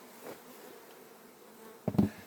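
Honey bees buzz around a hive being closed up during autumn preparation for winter, a low steady hum with a louder, closer burst of buzzing near the end.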